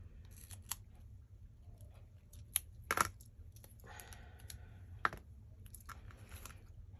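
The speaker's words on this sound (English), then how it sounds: "Get my sticky scissors." Scissors snip through paper while ephemera is cut for a Christmas craft folio, with quiet, crisp clips and short rustling cuts spread irregularly, a few louder snaps standing out against a soft background.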